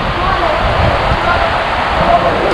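Heavy rain pouring down steadily during a bike ride, a dense hissing wash of sound, loud and close, with no pauses.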